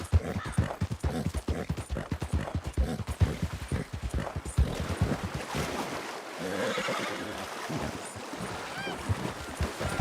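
Horse hooves clip-clop in Red Dead Redemption II, a rapid run of close, loud hoofbeats that later gives way to a softer stretch with a whinny, with some talk mixed in.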